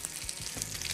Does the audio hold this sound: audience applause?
no